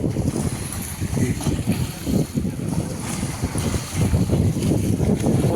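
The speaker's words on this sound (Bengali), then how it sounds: "বিভৎস হাওয়া, ঝর্ণার মতো হাওয়ার সাউন্ডটা দেখা যাচ্ছে।" Strong wind gusts across a Ganges river ghat where boats pass, roaring loudly and buffeting the microphone in an unbroken rush, with no clear talk.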